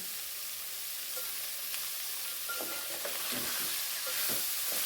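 Mixed vegetables with peas, carrots, beans and eggplant, made without onion or garlic, sizzle and hiss in a pan over a high flame, with scraping stirs growing busier toward the end.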